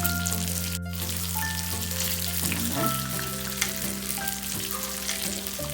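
Shark fish sizzles and crackles steadily in hot oil, a continuous close frying hiss with small pops and a faint background hum.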